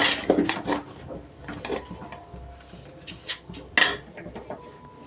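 A utensil scrapes and clinks against a pan while vermicelli fries for semiya kesari, producing irregular close metallic taps and rattles with a soft sizzle beneath.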